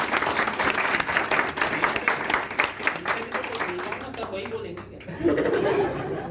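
Applause from guests at a 25th wedding anniversary celebration, a dense, fairly close burst of clapping with some chuckles that fades after a few seconds into a voice speaking.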